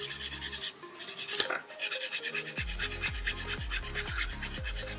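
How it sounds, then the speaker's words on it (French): A nail file rasps across the surface of a gel nail in steady, rapid back-and-forth strokes, close and continuous with no talking. "on va simplement limer la surface et on va vouloir tout limer"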